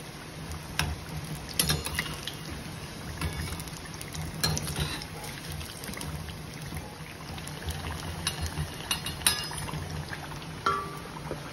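Potato and onion pakoras sizzle and bubble in hot oil in a kadhai, with a steady crackling hiss and occasional clinks of a utensil against the pan, no talking.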